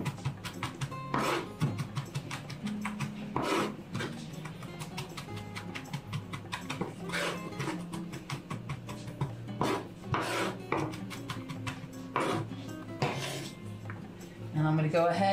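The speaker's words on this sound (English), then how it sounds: "I'm gonna go ahead and mince up my garlic. I opted for 3 cloves." A knife mincing three garlic cloves on a board, with repeated sharp chopping knocks and scraping rubs in an uneven rhythm, close and fairly quiet under faint background noise.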